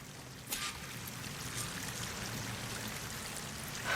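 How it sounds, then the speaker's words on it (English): A waterfall pours steadily in the game Horizon Forbidden West, a continuous broad rushing wash that holds at an even level for the whole stretch with no voices over it. "That waterfall must be coming from somewhere."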